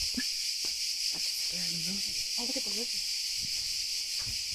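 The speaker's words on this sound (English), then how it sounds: "there's cicadas all around us" A constant high, droning buzz of cicadas in rural Greece fills the background while a person talks over it nearby.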